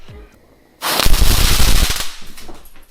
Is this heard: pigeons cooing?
no